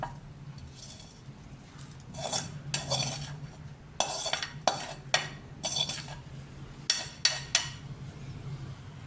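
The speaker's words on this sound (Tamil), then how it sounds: "இது அப்படியே இந்த மாவில் மிக்ஸ் பண்ணிக்கலாங்க" A spoon clinks against a bowl while tempered onion and mustard seeds are stirred into uthappam batter, with a soft wet mixing sound and a series of sharp metallic taps in irregular bursts.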